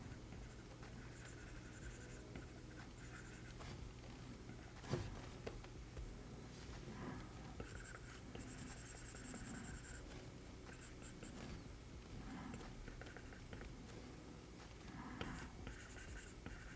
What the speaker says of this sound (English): Are you guys getting the added benefit of my ASMR pencil rendering?